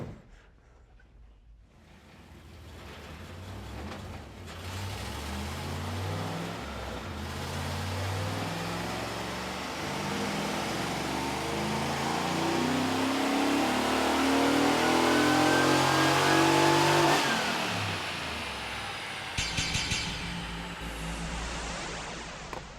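A 1994 Camaro on a chassis dyno revs up from quiet into a long, loud, rising engine pull that peaks and cuts off abruptly, followed by brief clattering and residual mechanical noise.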